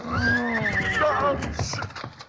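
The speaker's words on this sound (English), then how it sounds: "Whoa, horse, steady." Horse whinnying on a western trail: one loud, close, wavering neigh that falls in pitch, with hoof clip-clop and a voice speaking over it.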